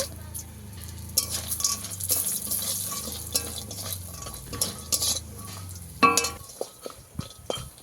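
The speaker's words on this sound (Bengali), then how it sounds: "এখানে আমি বিউলির ডালের বড়ি নিয়ে নিয়েছি, কুমড়ো বড়ি বাড়িতে বানানো, সেটাকে ভেজে নেব।" Homemade urad dal bori frying in a pan, with a steady low sizzle under scraping and stirring of a utensil against metal and a few sharper clinks toward the end.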